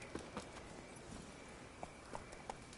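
Horse Roach's hooves clop in sparse, faint beats over a steady low ambient bed in The Witcher 3, with a few isolated impacts spread across the moment.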